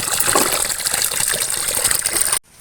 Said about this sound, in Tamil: வாங்க நம்ம காயை அலசி எடுத்துக்குவோம் அலசியாச்சு அலசி எடுத்தாச்சு